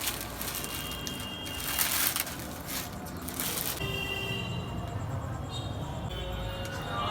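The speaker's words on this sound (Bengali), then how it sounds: "আমি একটু ভেঙে ভেঙে দিব।" Dry chow mein noodles snapped into pieces by hand over a pot of boiling water in a home kitchen, giving a steady run of dry crunching and crackling under a low background hiss.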